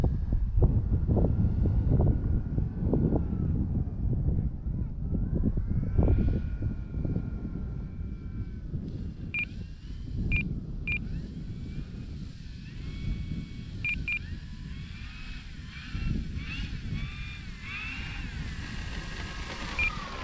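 An E-Flite Draco STOL RC plane flies over rough terrain, its motor a steady buzz blended with heavy wind rumble on the microphone, with a few brief high beeps partway through.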